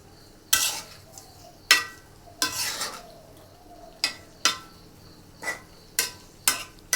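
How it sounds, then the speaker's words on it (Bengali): A spatula scraping and clanking in a pan while rohu fish is stirred with spices, about ten sharp strokes at irregular intervals over a faint sizzle. "মশলাগুলোর সাথে রুই মাছগুলো ভালোভাবে নেড়ে মিশিয়ে নেব।"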